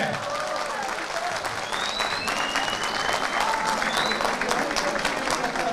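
Steady applause from an audience at a political rally in Balıkesir, dense clapping sustained throughout at an even level, with a few faint voices and whistles rising above the crowd.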